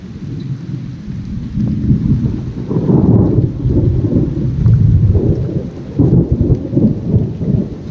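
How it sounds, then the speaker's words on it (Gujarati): Thunder rumbles and booms over steady, heavy monsoon rain in the Gir forest of Gujarat, swelling in louder waves throughout, with no voices. "વીજળીના કડાકા ભડાકા ચાલુ થઈ ગયા છે"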